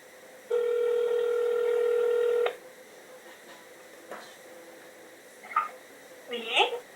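Telephone dialing for a prank call: a long steady tone followed by a few short beeps and faint later keypad tones, fairly quiet and close.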